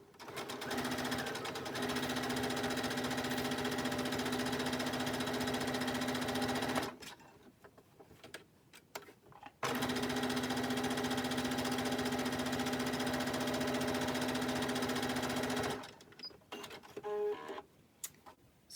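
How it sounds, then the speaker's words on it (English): A domestic sewing machine stitches a fabric face mask in two long steady bursts of fast, even whirring, each lasting several seconds, separated by a short quiet pause with small handling noises. "I'm just going to use the sewing machine because that's what most people have"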